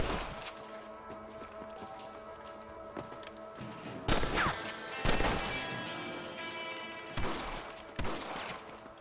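Rifle shots at rabbits in the video game Red Dead Redemption, several sharp cracks spaced a second or two apart over a low background of game sounds and hoofbeats.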